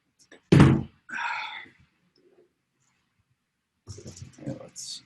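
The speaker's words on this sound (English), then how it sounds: "I'm gonna close my door" A room door swings shut with one loud, close thud, followed by a pause and then people talking.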